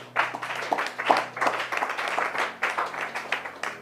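A church congregation at a Bible teaching session bursts into sustained applause, many hands clapping in a dense, rolling wash that swells and ebbs for several seconds.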